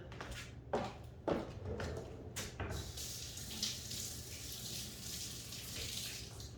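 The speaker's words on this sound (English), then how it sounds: "I'm gonna wash these mangoes too" Tap water runs steadily into a sink while mangoes are washed, with a few soft knocks and handling sounds near the start, quiet and close.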